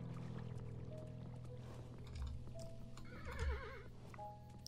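Whinnying from a horse in the video game Kingdom, a short neigh rising clearly over a busy layer of game music and ambience, with faint hoof clip-clops underneath.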